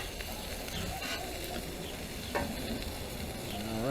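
Potatoes fry on a Blackstone griddle with a steady, close sizzle and crackle that runs the whole time, with occasional scrapes and light clinks over it.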